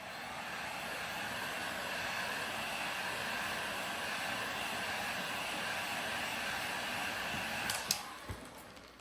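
A heat gun blowing on chrome vinyl car wrap, a steady close whooshing hiss held throughout, with a couple of brief knocks near the end.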